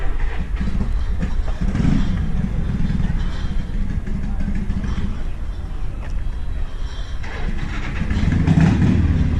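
A supercharged bagger motorcycle rumbles steadily with a deep engine drone, swelling louder toward the end as it passes nearby amid street noise.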